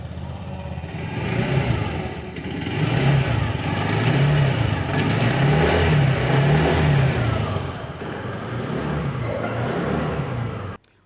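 Exhaust note of a 2023 TVS Jupiter 125 scooter with an E20, OBD-2, BS6 engine, running steadily at idle and light revs with a low, even burble for about ten seconds before cutting off.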